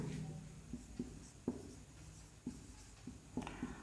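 A pen writes on paper during a maths lesson, making faint, close scratching strokes with small taps and pauses over a quiet room background.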